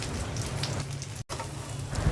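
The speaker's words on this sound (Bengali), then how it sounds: "আমি আবারও চপগুলো তেলে ছেড়ে দিচ্ছি।" Potato and meat chops fry in hot oil, giving a dense, steady crackling hiss close up, with a brief dropout partway through and no voices.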